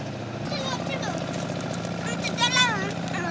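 A boat engine drones steadily as a boat passes on the water, a moderate continuous motor hum heard under children's and adults' chatter outdoors in the afternoon.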